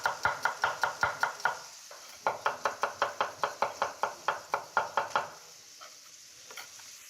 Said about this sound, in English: We'll chop garlic